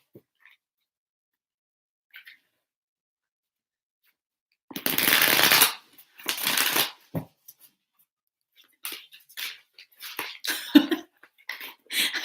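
Tarot cards are wiggled and riffled in place close to the mic, in several rustling, papery bursts separated by short pauses.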